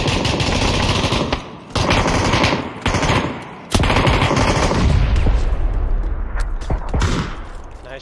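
Sustained automatic gunfire in a video game, loud and close, with a few brief gaps in the bursts, then heavy rumbling firing that thins toward the end.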